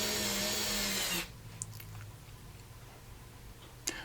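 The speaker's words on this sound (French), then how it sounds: "Vous voyez, j'utilise un tout petit tournevis." A small, cheap electric screwdriver whirs loudly as it drives screws into a mobile furniture base for a grinder, then cuts off after a second, followed by quiet room tone and a couple of small clicks.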